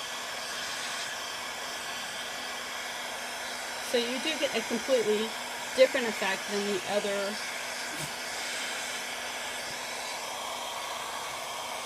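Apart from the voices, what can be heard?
hair dryer blowing alcohol inks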